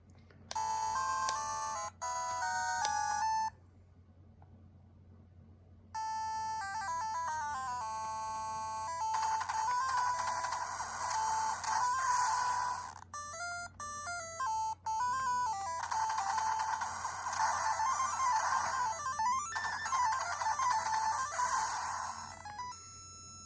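Contra video game audio from a Q1 handheld's built-in speaker: bright chiptune melodies and beeping effects, with a short silent gap before the music resumes and keeps playing alone for about twenty seconds.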